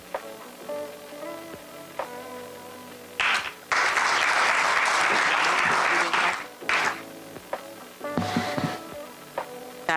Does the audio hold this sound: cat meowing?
no